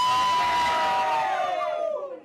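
A crowd in India celebrates a court ruling overturning a ban on gay sex, raising a loud burst of cheering and whooping voices that slowly fades over a couple of seconds.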